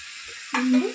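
Bottle gourd curry cooking on a medium flame under a lid, a faint background hum that swells into a short burst of sizzling and bubbling near the end, close by with no voices.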